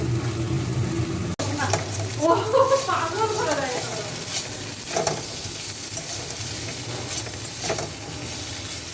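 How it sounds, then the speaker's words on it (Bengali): Pieces of pointed gourd fry in oil with a steady sizzle and occasional stirring scrapes, while a person talks over the cooking. "পটলটা ভাজা হোক"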